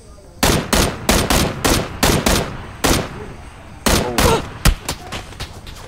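Gunshots crack out in a rhythmic series of single loud reports in the PUBG video game. There are about a dozen evenly spaced shots, with a short pause partway through and faint background noise between them.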